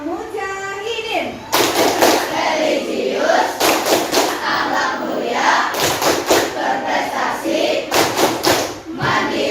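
Classroom children perform the tepuk al-mujahidin clapping chant, loud rhythmic bursts of group claps alternating with chanted words, a teacher's voice leading between the clapping rounds.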